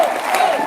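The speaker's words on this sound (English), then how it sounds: "the applause is not for me, it's for all of you" Brief burst of crowd applause at a town hall, many hands clapping steadily with voices mixed in beneath.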